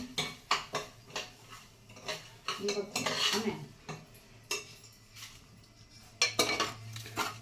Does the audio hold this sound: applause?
no